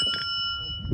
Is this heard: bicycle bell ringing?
yes